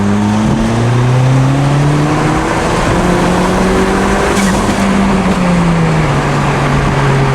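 A small 4-cylinder car making about 300 wheel horsepower accelerates hard in third gear, its engine droning loud and close while the pitch climbs, dips briefly and climbs again.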